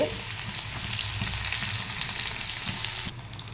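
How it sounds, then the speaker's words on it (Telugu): Curry leaves and onions frying in hot oil for a simple tempering give a steady, close, loud sizzle with a brief spatter at the start and stirring scrapes throughout. No one speaks over it. "ఇప్పుడు మనం కరివేపాకును ఉల్లిపాయలు యాడ్ చేసుకోవాలి"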